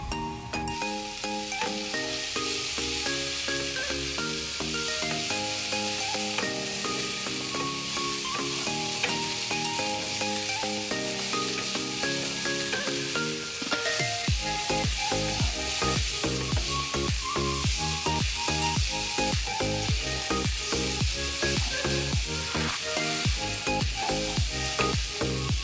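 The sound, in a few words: yardlong beans and onion frying on low flame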